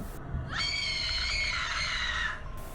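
A woman lets out one long, high, sustained scream for a horror story effect, loud and alone against a faint background, lasting nearly two seconds.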